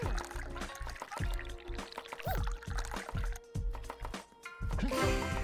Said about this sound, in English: How do I pour?